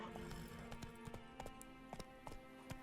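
Roach the horse's hooves clip-clopping in the Witcher 3 video game, a steady run of sharp, fairly close hoofbeats over a low background hum, with light talk now and then.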